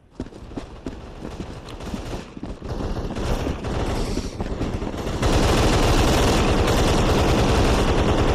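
Rapid automatic gunfire in a zombie shooter video game, loud close bursts of shots that start sparse and build into a sustained, dense rattle of fire.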